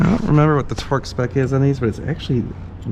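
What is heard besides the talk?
None of the usual background noises is heard.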